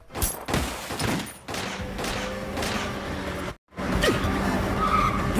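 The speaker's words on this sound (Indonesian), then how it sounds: "karena ledakan itu, membuat mobil yang ditumpangi kedua rekan Lloyd hancur dan terguling" An explosion wrecks a car and flips it over in a Spy x Family anime scene, heard as a loud burst with skidding, crashing debris and rumbling impacts that break off briefly, then resume.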